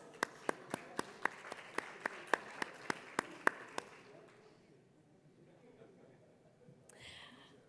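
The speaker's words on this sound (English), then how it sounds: "Let's give them another round of applause." Applause at a panel discussion at an education conference in Dubai, heard as a steady run of single sharp claps for about four seconds, then faint room murmur and a brief noise near the end.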